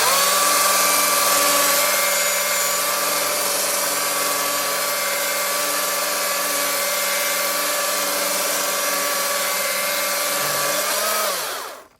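A Stihl MSA 220 C battery electric chainsaw with a slightly dull chain cutting through hardwood, a loud steady high-pitched whine held for about eleven seconds before the motor spins down and stops.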